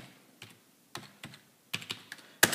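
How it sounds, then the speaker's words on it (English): Someone types a last name on a computer keyboard: scattered, crisp keystrokes in uneven bursts, fairly close and quiet, ending with a sharper, louder key press. "you're going to type your last name"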